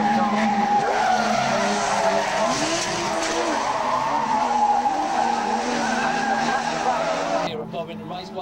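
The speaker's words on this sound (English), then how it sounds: "certainly Colin Farley looking good in this one. In that number 7 car" Race cars skid at Bovingdon Raceway, tires squealing in long wavering howls over roaring engines, loud and close, while a commentator talks over the action before the sound drops away at the end.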